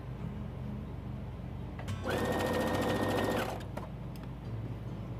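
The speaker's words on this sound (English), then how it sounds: "I sew kind of fast because I've done so many of these things." A sewing machine stitches fabric for a pillowcase dress in one fast burst of about a second and a half, loud and close, with quiet room tone before and after.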